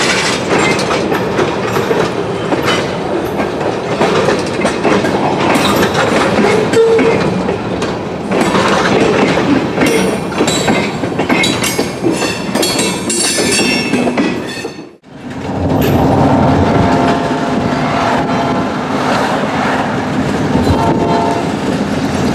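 A freight train hauled by ATN locomotives rolls past loudly and close on the Guntersville line, a continuous rumble with clattering wheels and squeal, briefly dropping out before the roar resumes, with no talk.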